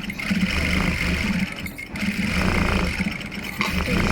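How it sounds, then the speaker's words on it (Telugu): A sewing machine stitches frills onto lining cloth up close, a steady loud mechanical whir with a rapid rhythmic needle chatter, briefly slowing mid-way before running on. "ఇప్పుడు నేను ఈ లైనింగ్ క్లాత్ పైన స్టిచ్ వేస్తున్నాను"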